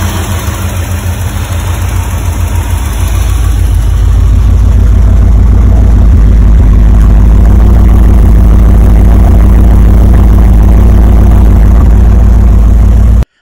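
A Porsche 928 V8 engine running after a fuel pump and fuel filter replacement, idling loud and steady up close, its rumble building slightly after a few seconds and then holding a smooth, even drone.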